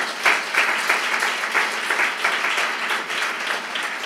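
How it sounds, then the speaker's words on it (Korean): A church congregation at a Christmas Sunday service applauds together, a steady, dense wash of clapping from many hands that holds evenly for several seconds. "우리 주님께 영광의 박수 올려드립니다."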